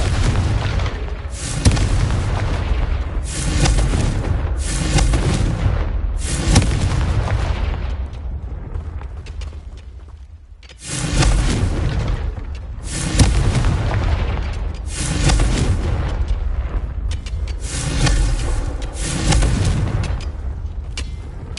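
Confringo blasting spell fired over and over in the video game Hogwarts Legacy, a string of loud, booming explosions in quick bursts, each with a rumbling tail, with one short pause midway.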